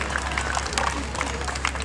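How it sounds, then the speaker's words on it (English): Festival crowd applauds performers at a school showcase, a brief burst of clapping mixed with crowd noise and a low background hum. "Big round of applause for everyone who's performed today."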